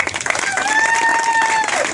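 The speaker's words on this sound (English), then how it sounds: "Let's give the Icehouse a round of applause" A crowd applauds the Icehouse Restaurant at a trail-race after-party awards event, a steady wash of clapping filling two seconds, with a thin sustained whistle-like tone gliding through the middle.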